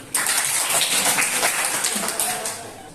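An audience at a school teaching-practice session applauds, a thick, even wash of many hands clapping together, loud and close, that holds steady and then eases off slightly toward the end.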